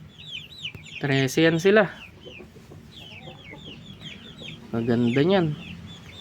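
Kabir crossbreed chickens, young free-range backyard birds, cluck and call near the microphone in two loud bursts among softer chirps, while a person talks over them.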